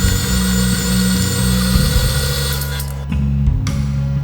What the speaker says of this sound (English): Put that in there and mix on a medium speed until it's all combined and fluffy